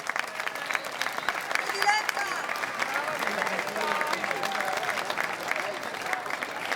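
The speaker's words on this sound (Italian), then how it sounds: "Un applauso forte forte." A crowd in Piazza Manzoni, Jesolo, gives a singer loud, sustained applause, a thick continuous roar of clapping hands with voices mixed in throughout.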